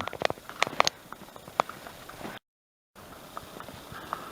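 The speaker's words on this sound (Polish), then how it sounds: "Konikowi też ślisko, bo na sztywnych łapach, zobacz, na sztywnych nogach idzie" A horse walks stiff-legged over slippery ground in Zagnańsk, its hooves giving faint, irregular clops and soft scuffs outdoors, with no talking.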